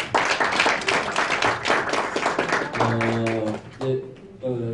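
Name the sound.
audience clapping for the speakers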